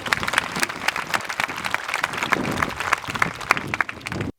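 A church congregation claps along in a rapid, uneven patter of many hands, moderately loud and steady for a few seconds before cutting off abruptly.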